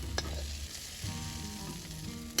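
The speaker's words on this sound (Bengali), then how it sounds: "চিংড়ি মাছ বেশি ভাজবো না, হালকা ভেজে নামিয়ে নেব।" Shrimp fry lightly in hot oil for a village-style ash gourd and prawn curry. A steady, close sizzle with faint crackles runs throughout, with soft stirring noises and no talk.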